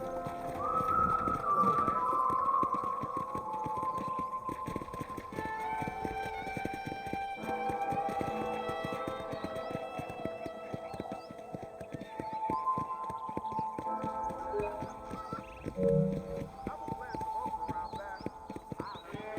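Horse hooves clip-clop in Red Dead Redemption, a steady rhythmic clatter of hoofbeats at moderate loudness on a ranch road, with a brief whinny and faint birdsong in the background, while someone talks over it.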